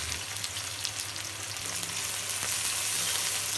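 Onions sizzle steadily in hot oil in a kadai as a bitter gourd dish gets started, a dense, even frying hiss that grows slightly louder toward the end, with no voices.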